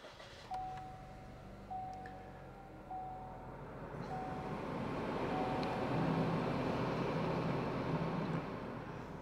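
A 2022 Chevrolet Malibu RS starting with a push button: a run of soft repeating chimes, then the engine catches and settles into a low, steady idle hum heard from inside the cabin.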